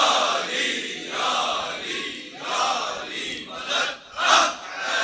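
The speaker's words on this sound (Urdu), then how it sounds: "صلوات پڑھ لیں محمد و آل محمد پر۔" A large crowd at a Shia religious gathering recites salawat upon Muhammad and his family in unison, a dense, swelling chant rising and falling in waves.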